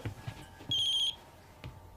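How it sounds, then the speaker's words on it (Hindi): A phone ringtone sounds in an indoor scene as one short electronic ring burst, with faint soft knocks and rustles before and after it. "बज रहा है"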